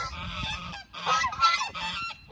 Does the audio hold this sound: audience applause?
no